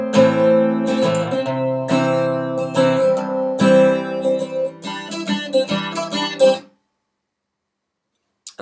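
Acoustic guitar riff, with strings pulled off and hammered on against open strings, ringing steadily for about six and a half seconds before stopping into silence.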